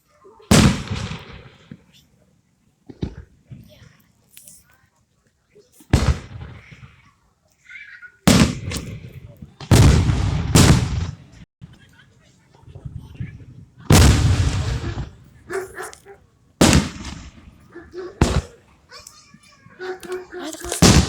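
Canada Day fireworks burst outdoors in loud, sharp booms, spaced irregularly with some rapid clusters, while people and children talk and react in between.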